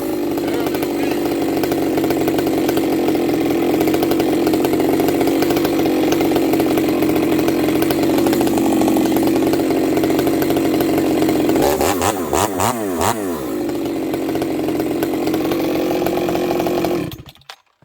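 A model 266 chainsaw fitted with a new cylinder cuts dirty wood, its engine holding a loud, close, sustained high whine that dips and wavers under load before it cuts off near the end.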